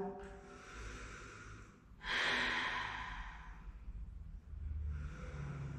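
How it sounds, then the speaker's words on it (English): A single deep cleansing breath during a yoga session, a long airy exhale that swells and fades in the middle of quiet room tone, with a softer breath following near the end. "Take a cleansing breath"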